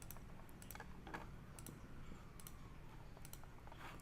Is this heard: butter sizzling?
no